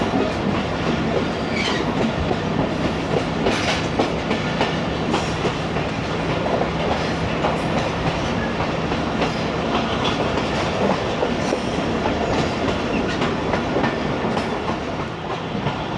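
The 38DN Fareed Express passenger train running on rails through rural Punjab, a steady loud rumble with rhythmic wheel clatter and occasional faint squeals, heard from inside the moving train.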